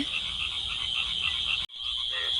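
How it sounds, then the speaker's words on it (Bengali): A constant whirring of evening insects with a few faint low calls from two large frogs mixed in, interrupted briefly by a sudden dropout. "আর সঙ্গে দুটো বড় বড় ব্যাঙ ডাকছে।"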